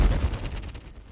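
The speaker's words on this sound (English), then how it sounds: "Here I grabbed one of the factory presets using some rise stuff and some nice impacts" Factory preset impact from the UVI Orbit synth, a short, loud, punchy hit with a brief noisy decay, heard alone.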